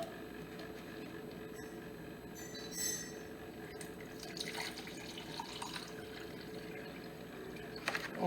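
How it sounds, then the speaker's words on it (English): Water left from soaking rice is strained through a strainer into a measuring cup, giving a faint, steady trickle and drip with a few light clinks near the end. "I'm going to strain the water into this measuring cup."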